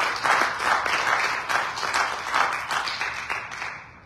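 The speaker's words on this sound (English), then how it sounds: "Can we give God another hand clap?" A church congregation claps together in rhythmic bursts that swell and ebb over a few seconds, moderately loud, then taper off toward the end.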